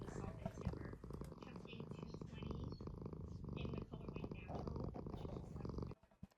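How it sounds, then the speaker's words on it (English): A cat purring in bed, making a continuous low rumbling vibration that holds steady for about six seconds before cutting off, close but quiet, with a person talking softly over it. "And here I'm back in bed with my cat Nora."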